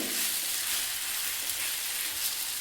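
Mango mixture for gulamba fries in ghee over very low heat, a steady close hiss and crackle of sizzling that runs unbroken with no voices.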